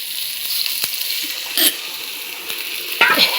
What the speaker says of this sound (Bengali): এবারে একটু জল দিয়ে দেবো